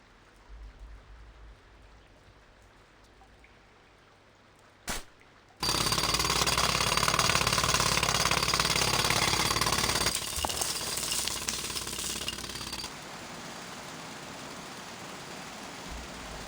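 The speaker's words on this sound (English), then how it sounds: "I need more time to finish hammering the hole!" In the TMNT Mutants Unleashed video game, a heavy jackhammer-like drill pounds a hole into a treatment facility reservoir. After a sharp clank it roars loud and continuous, with dense rattling hammering for several seconds before easing to a steadier, quieter grind.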